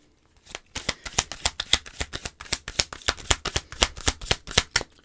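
Oracle cards are shuffled in a quick run of crisp riffling slaps, about twenty close, loud flicks over five seconds with no voice.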